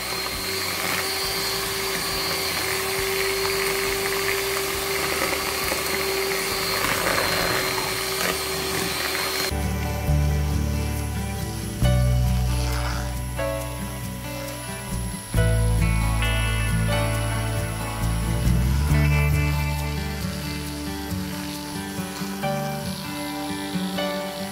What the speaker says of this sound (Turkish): Güzel bir kabaracak, rengi açılana kadar çırpmaya devam edeceğiz.